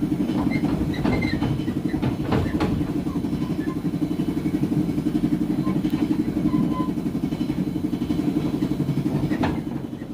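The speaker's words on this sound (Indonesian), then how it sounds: "Saat ini kereta api Gajah Wong tiba di stasiun besar Purwokerto." The Gajah Wong passenger train arrives at Purwokerto station, Indonesia, rumbling steadily close by with a rhythmic clickety-clack of wheels, loud and continuous throughout.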